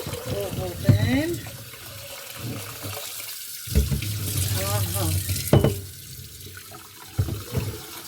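Water from a kitchen tap runs in a sink while a flower vase is rinsed, splashing in uneven bursts close by, as someone talks over it.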